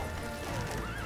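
A horse in The Witcher 3 whinnies loudly and close, its neigh rising and wavering over a brief stretch of game ambience and soft hoof clopping.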